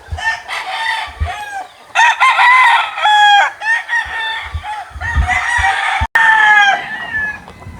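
Chickens and roosters on a Filipino gamefowl farm crowing repeatedly and loudly, overlapping calls near and farther off, with a few low thumps and brief clucks between the crows.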